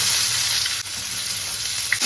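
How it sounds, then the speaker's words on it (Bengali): Chopped onion frying in oil in a home kitchen, a loud, continuous crackling sizzle with a brief dip where it is stirred, then steady again. "পেঁয়াজটা একটু ভাজা ভাজা করে নেবো একটু গোল্ডেন কালার হয়ে আসলো"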